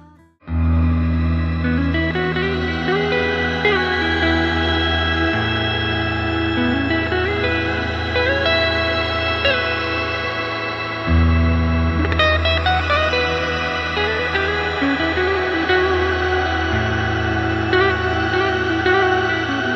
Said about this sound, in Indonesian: Sekarang kita coba efek reverb-nya kita maksimalin.